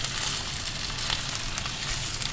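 Ginger garlic paste frying in oil in a pan for green masala qeema, making a loud, continuous close-up sizzle with faint stirring clicks and no speech.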